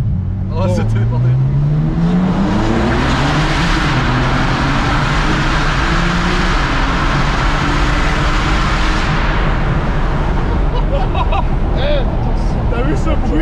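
A 900-horsepower Porsche with a 4-litre biturbo engine accelerating hard, heard from inside: a loud, continuous roar with rising engine pitch through several gear pulls and heavy wind and road noise, while people talk over it.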